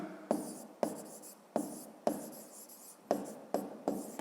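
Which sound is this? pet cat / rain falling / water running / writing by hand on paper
writing by hand on paper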